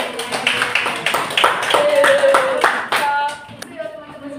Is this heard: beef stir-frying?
no